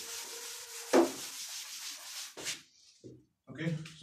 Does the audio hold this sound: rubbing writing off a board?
yes